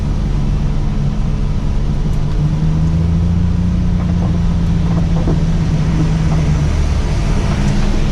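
A forage harvester with a rotary saw blade header cuts corn silage, its engine and machinery holding a loud, steady, unbroken drone from start to finish.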